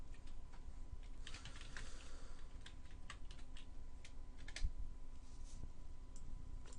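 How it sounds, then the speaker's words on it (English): Quiet typing on a computer keyboard, with light, irregular key clicks over a steady low room hum. "I can type some further text."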